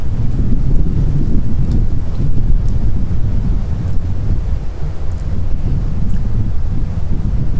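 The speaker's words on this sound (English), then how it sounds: "Still kind of windy, but hopefully you can hear me." Heavy wind buffeting a microphone, a loud low rumble that roars and gusts steadily throughout with no speech.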